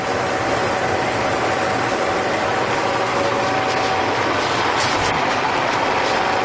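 A machine tapping threads into a Reed 602 vise body at 35 RPM gives off a steady, dense mechanical drone with a faint whine running through it. The noise is continuous and fairly loud, and no one speaks.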